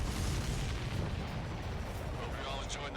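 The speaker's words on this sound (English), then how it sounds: "Missile hits target." A missile explosion in the video game Ace Combat 7 gives a loud, rumbling boom with heavy low-end roar that sustains and slowly fades, with voices talking faintly under it.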